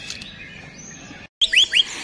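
A white-rumped shama (murai) songbird at a bird contest sings in short, sharp whistled chirps and rising notes that come close and clear after a faint opening phrase.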